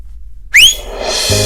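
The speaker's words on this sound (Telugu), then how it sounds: "విజిల్ వేస్తే కరెంట్ వస్తుందండి" A person gives a single sharp, rising whistle, short and close. Faint background noise follows, with a low hum coming in near the end.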